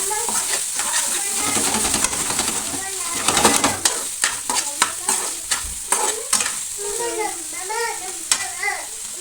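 Mutton being stirred in a hot frying pan, with a spoon scraping and clattering in uneven strokes over a steady close sizzle; a voice chatters faintly in the background.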